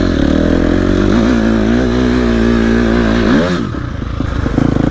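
A KTM SXF 250 dirt bike climbs a sandy hill, its four-stroke engine revving loud and steady before dropping off, followed by rough clattering and scraping as the bike churns through sand.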